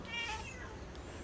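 A tiny white kitten on an evening beach gives a single faint, short high meow at the start, quiet over soft steady background noise.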